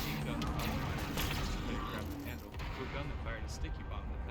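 Gunfire in Half-Life: Alyx, dense continuous shooting and booming impacts filling the scene at steady loudness, with a voice underneath.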